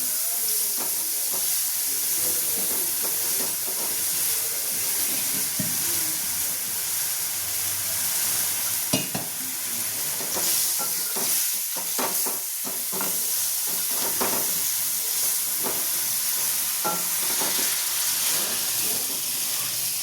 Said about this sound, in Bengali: গুঁড়ো মশলাটা দেওয়া হলো জলে গুলে, এবারে একটা কষিয়ে নেওয়া হবে।